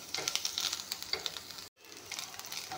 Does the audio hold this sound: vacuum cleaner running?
no